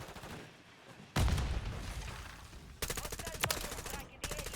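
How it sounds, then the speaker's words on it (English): Hostile mortar strike in a video game: a heavy close blast followed by rumble, then a run of rapid, evenly spaced impacts and crackling bursts, fairly quiet overall with no speech. "Hostile mortar strike in the area."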